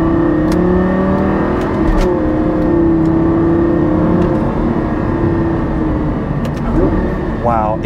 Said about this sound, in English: Now, let's get into Corsa mode.